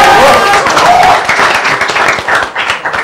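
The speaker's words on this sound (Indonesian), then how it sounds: "Tepuk tangannya mana? Tepuk tangan." A short burst of applause from an audience, hands clapping together in a brief, fading round.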